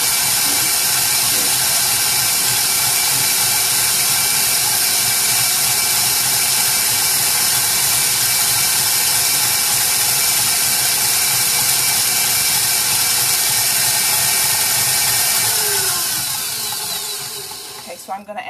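An electric stand mixer with a whisk attachment runs on high, a loud steady mechanical whir with constant grinding texture that holds for most of the stretch before easing down near the end.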